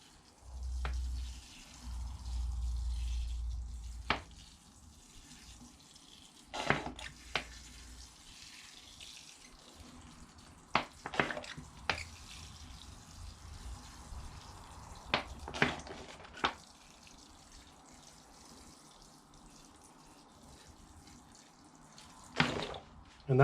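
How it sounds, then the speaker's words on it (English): Water poured through a freshly potted bonsai tree in its pot, draining through the soil; soft, faint trickling and dripping with scattered brief splashes and knocks, quiet between bursts. "We'll just give that a bit of water it through."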